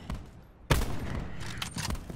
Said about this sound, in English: Shots, I actually downed someone from this far with an LMG.